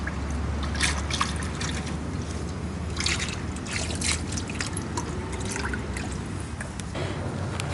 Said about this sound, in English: Be sure to drain the overflow tank.